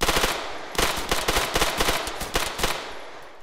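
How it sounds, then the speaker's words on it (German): Rapid bursts of automatic gunfire from the military shooter game Arma III, loud and close, with several rattling volleys separated by brief gaps and a fading tail. "Und der Feind neben Ihnen schießt auf mich"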